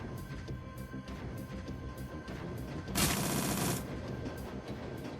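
A rapid burst of automatic gunfire rattles out in a Shadowrun: Dragonfall game battle, a dense volley of about a second standing out over a steady quieter game background, with no voices.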